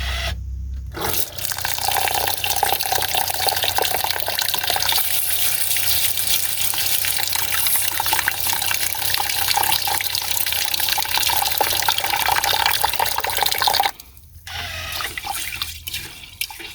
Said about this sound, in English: Alright, so first I'm going to wash my rice.